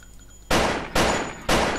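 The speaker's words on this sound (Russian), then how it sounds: "Итак, давайте постреляем по различным предметам." Three loud Colt 1911 pistol shots in the video game My Summer Car ring out about half a second apart, each a sharp broadband crack with a short decaying tail, with no talk.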